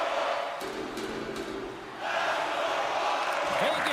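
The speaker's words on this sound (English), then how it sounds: "you can feel the energy in this crowd" A hockey arena crowd in a video game during a tied Vegas game, a dense roaring wash of cheering voices that swells after a brief lull and stays loud to the end.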